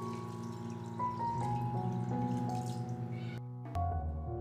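Water pours from a tap into a bowl of washed basmati rice being readied for veg biryani, a steady close stream with a faint ringing hum underneath and a brief gap near the end.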